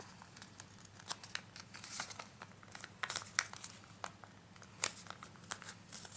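Paper being folded and creased for a sushi origami model, with close crinkling and crisp crunches in an irregular sequence.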